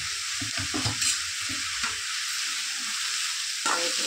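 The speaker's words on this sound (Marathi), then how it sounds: "थोडी हिरवी मिरची आणि थोडासा कांदा टाकणार" Green chilli and chopped onion frying and being stirred in a hot pan for street-style momo filling, a steady sizzle with intermittent scraping stirs throughout, close and fairly loud.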